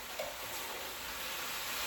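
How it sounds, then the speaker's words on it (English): Steak searing in a hot pan gives a steady, dense broadband sizzle that stays even and close for the whole moment, with no voices over it. "I'm hoping y'all can hear that nice sizzle going on."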